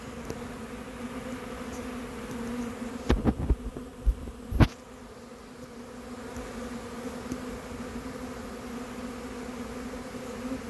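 Dense, steady buzzing of a swarm of honeybees being hived, with a low hum throughout, plus a few sharp knocks or bumps near the middle.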